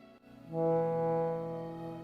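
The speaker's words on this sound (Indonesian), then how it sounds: "Mainkan organ dengan perlahan seperti itu." A pump organ in an old French farmhouse sounds a sustained, reedy low chord that swells in after a soft click and holds steadily before fading slightly.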